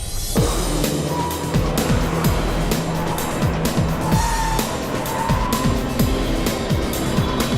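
A BMW performance car, either a Dinan-tuned 335i or an M3, weaves through a slalom course. The loud engine revs rise and fall in quick repeated sweeps, with tire squeal and no voices.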